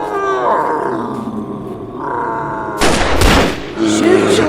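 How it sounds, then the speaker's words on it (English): A loud animal roar, standing in for a grizzly bear in a cowboy comic audio drama, rumbles for a few seconds, followed by a sharp burst like a gunshot and more roaring. "A grizzly bear is coming our way!"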